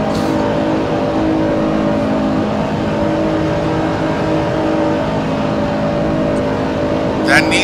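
Racing cars in a Gran Turismo race on the Nordschleife, Nissan and Mercedes-Benz among them, with loud sustained engine drone on a long straight and a commentator talking over it.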